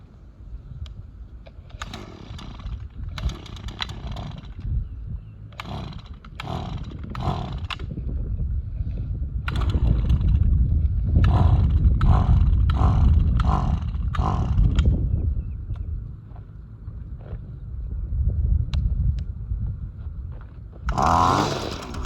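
A two-stroke engine is started, with a series of rhythmic pulls and sputtering catches that build into a rough, rising roar. The engine then settles to a lower rumble and surges again near the end.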